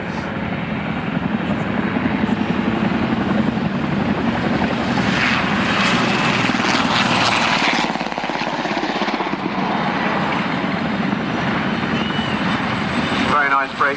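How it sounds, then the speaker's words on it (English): Heavy twin-rotor Chinook helicopters fly past at an air display, a loud, continuous broadband rotor roar that swells and holds for the whole stretch, with a brief rhythmic blade slap near the end. "I think quite an impression from the heavy rotor blades of this magnificent helicopter."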